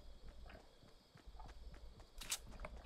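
Footsteps of the player's own character in the video game Fortnite, a steady walking patter of soft clip-clop steps close by under low game ambience, with a brighter burst near the end.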